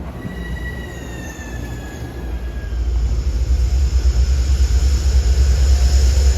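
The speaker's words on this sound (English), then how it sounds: "You hear the engine on the 211." A Metro North train, number 211, rolls past nearby with rail squealing and a loud rising rumble of engine and wheels that swells and holds toward the end.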